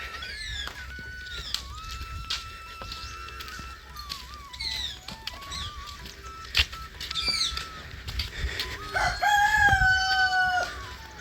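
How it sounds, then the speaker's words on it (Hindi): Roosters crow repeatedly nearby, long drawn-out calls rising and falling, with clucking and scattered clatter between them and a loud crow near the end. "दोपहर में बोल रहे मुर्गे"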